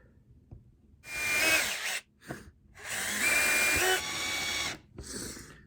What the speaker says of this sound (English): Probably going to pilot these just to be safe. Using a 3/32 inch pilot.